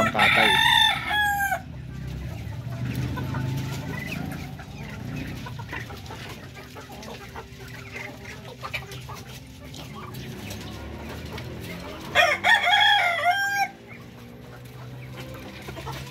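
Darag native chickens crowing and clucking at a farm pen, with loud crows at the start and again near the end and softer clucking and someone talking in between.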